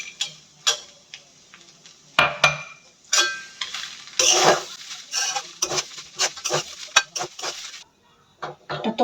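Drained flattened rice and fried peanuts are stirred in a pan, with quick, irregular clinks and scrapes of a utensil against metal repeating throughout, close and fairly loud.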